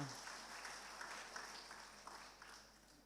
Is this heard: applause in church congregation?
yes